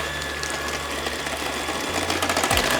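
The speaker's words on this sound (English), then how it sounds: "now this we're gonna put on medium-high, and we are gonna beat this about 3 minutes until it's nice and frothy" An electric hand mixer on medium-high beats a mixture until frothy, giving a steady close motor whir with a low hum that shifts pitch near the end, running alone without talk.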